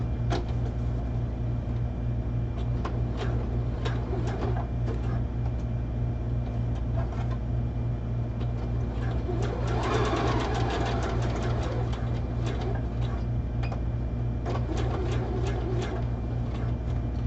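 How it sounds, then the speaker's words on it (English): A sewing machine straight and zigzag stitches a headdress, a continuous low mechanical hum with rapid ticking bursts of stitching coming and going throughout. "We're going to straight stitch and then zigzag stitch it."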